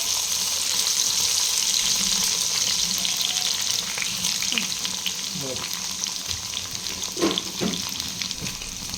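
Oil bubbling hot in a pan, a dense, steady sizzle that holds throughout with a few light clinks and scrapes near the end, no voices.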